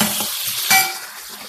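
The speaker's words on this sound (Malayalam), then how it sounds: "ഇഞ്ചി ഇട്ടു, പച്ചമുളക് ഇട്ടു, കറിവേപ്പില ഇട്ടു, വെളുത്തുള്ളി ഇട്ടു, സവാള, തക്കാളി എല്ലാം കൂടി വഴറ്റുക" Ginger, green chilli, curry leaves, garlic, onion and tomato sautéing in a pan for a chickpea curry, a soft steady sizzle with a spatula stirring and clinking against the pan, heard alone.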